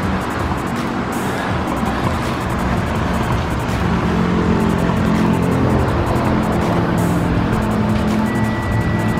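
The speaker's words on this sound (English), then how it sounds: "it was so hot that it didn't want to get out of first gear" An overheating car engine stuck in first gear, droning and straining steadily at close range with a constant loud motor roar and no speech.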